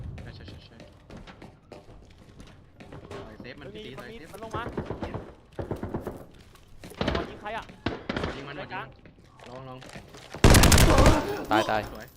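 Gunfire in the shooter game Arena Breakout Infinite, scattered shots and short bursts with a loud close volley near the end, while players talk excitedly throughout.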